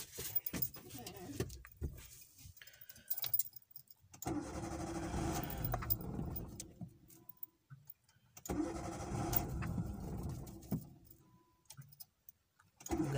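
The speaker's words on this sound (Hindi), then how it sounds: "तो पहले मैं गाड़ी अपनी स्टार्ट कर लेता हूँ।" A car engine starting on a cold winter day: two bursts of cranking and engine noise, each a few seconds long, separated by quiet gaps, with no talk.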